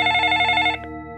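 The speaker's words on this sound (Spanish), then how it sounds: "Un teléfono que sonaba en el tercer piso, proveniente de alguna de las habitaciones." A telephone bell rings loudly in a hotel, one continuous electronic trill that cuts off abruptly near the end, leaving a faint ringing tail in an otherwise quiet space.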